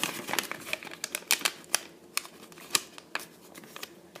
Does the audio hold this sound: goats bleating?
no